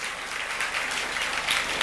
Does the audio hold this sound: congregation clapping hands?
yes